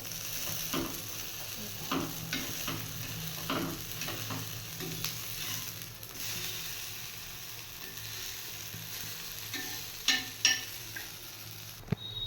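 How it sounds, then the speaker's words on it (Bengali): Flattened sandwich patties fry in a pan with a continuous crackling sizzle, interrupted by repeated scrapes and taps of a ladle pressing and turning them, and louder knocks near the end. "খুব সুন্দর করে এই প্যাটিগুলো ভাজা হয়েছে দেখুন দু লাল লাল করে আর একটু ক্রিস্পি হয়েছে"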